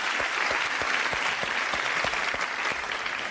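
Studio audience applause on a comedy panel show, full and sustained clapping with a few sharper claps standing out near the front, steady throughout with no voices on top.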